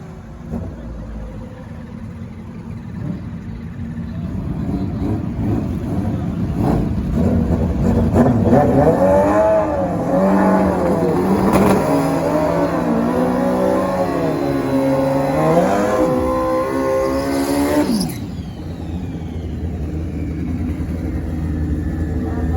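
Drag racing motorcycles, a 1,000 and a 14, rev and launch side by side in a grudge race at a test-and-tune bike event. Engines climb loud and high, hold a rising wail, then cut off abruptly.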